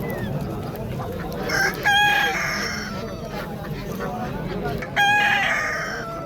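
Two loud rooster crows ring out at a busy outdoor poultry market, each a drawn-out cock-a-doodle-doo over a steady hubbub of crowd noise and clucking fowl.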